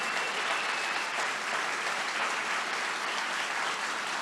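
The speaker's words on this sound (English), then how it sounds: "give a big round of applause to this amazing 8 contestants" The audience at a District 127 speech contest at The Aquila applauds the eight contestants, a thick, uninterrupted patter of many hands clapping, full and even throughout with no voices.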